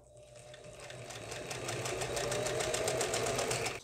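A sewing machine stitches a mitred fabric corner, its rapid even needle rhythm speeding up and running steadily close by for several seconds before stopping abruptly, with no voices.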